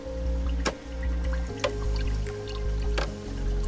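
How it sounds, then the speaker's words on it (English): Salt being stirred into water for electrolysis: soft liquid swishing and sloshing with a few sharp clinks and taps as the stirrer knocks the container, close by. "Give that a stir, some salt."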